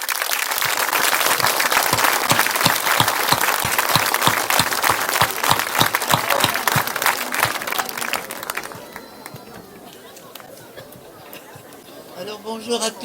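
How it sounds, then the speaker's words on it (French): An audience at a 2019 ceremony baptizing a giant festival figure applauds loudly for about nine seconds, steady crowd clapping that then gives way to quieter murmuring chatter. "Je crois qu'on peut tous s'applaudir."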